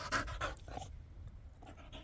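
A hot, tired dog pants in quick, rhythmic breathy puffs close by, fairly soft and alone, with no talking.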